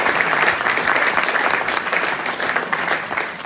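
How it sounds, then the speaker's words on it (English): A live concert audience gives a big, sustained round of applause, dense and loud, holding steady from start to finish with no speech on top. "Give her a big, massive round of applause."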